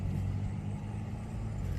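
Cars pass on a town street, a steady low rumble of traffic noise without pauses, moderately quiet and with no talk.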